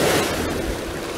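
Water washing and lapping at a river mouth as the wake of passing boats rolls in, a steady broad rush with some wind noise, fairly close and continuous, no talk.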